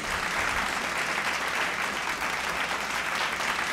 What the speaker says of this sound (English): A round of applause as she steps forward.